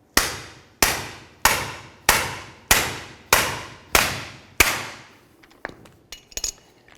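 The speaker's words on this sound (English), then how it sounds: "give it a couple loving bonks with my hammer" Eight sharp metallic hammer strikes on a pickle fork wedged in a steering joint, a Chevy Silverado idler arm, ring out at a steady pace, each decaying quickly, followed by a few lighter clanks and shuffling.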